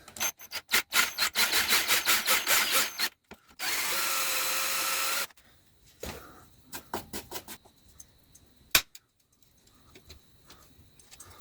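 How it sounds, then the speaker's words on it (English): Power drill grinding the head off a screw on a fan motor, in short loud repeated bursts and then one steady run. Quieter clicks and handling noises follow. "I actually got to drill the head off this"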